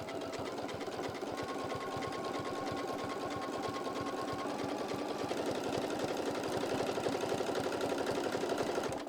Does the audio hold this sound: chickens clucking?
no